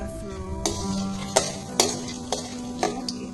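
Mustard seeds and chana dal sizzling in hot oil, a close, steady fizz punctuated by several sharp metallic taps and clinks of a spoon on the pan.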